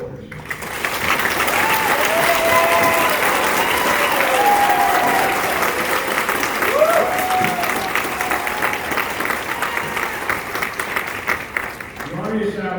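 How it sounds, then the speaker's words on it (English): A ceremony crowd at Fort Jackson breaks into sustained applause for soldiers, dense clapping holding steady for several seconds before thinning toward the end, with scattered voices mixed in. "I ask that y'all please join me in a round of applause for these distinguished soldiers"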